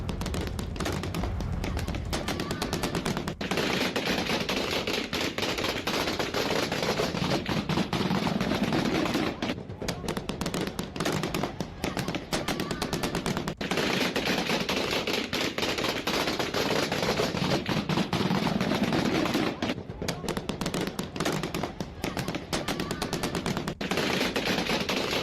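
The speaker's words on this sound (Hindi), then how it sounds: "ये जो गोलियों की तड़तड़ाहट है" Rapid machine gun fire rattles almost continuously in Afghanistan, loud and dense bursts in the Parwan area, with only brief gaps between volleys.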